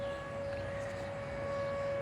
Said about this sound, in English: Looks like tornado sirens are going off in this area